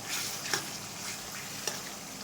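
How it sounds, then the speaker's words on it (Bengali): Onions frying in oil, giving a steady, soft hiss of sizzling with a couple of brief clicks from stirring, close by and without any voices. "তো পেঁয়াজগুলো দিয়ে এখন ভাজা ভাজা করবো"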